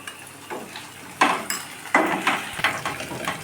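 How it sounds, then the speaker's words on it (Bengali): Mustard spice paste with turmeric, salt and a little water stirred in a bowl: a series of spoon clinks and wet scraping strokes in uneven rhythm, close and moderately loud, with no talking. "সামান্য পরিমাণ জল দিয়ে মশলাটাকে গুলে নেওয়া হচ্ছে"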